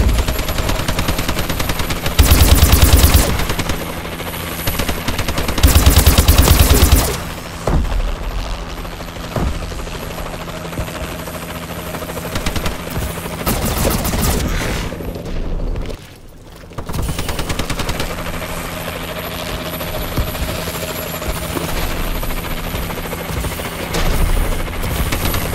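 Heavy automatic gunfire from a Warbird gunship in the shooter game Call of Duty: Advanced Warfare, loud bursts over a continuous rotor-like drone, with sharp impacts and a brief lull midway.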